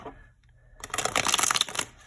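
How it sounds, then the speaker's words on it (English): A plastic deck of playing cards is riffle shuffled close up, a quiet lead-in followed by a dense, fast rattling flutter of cards. "This is a deck that I learned to riffle shuffle with because it does it so easily."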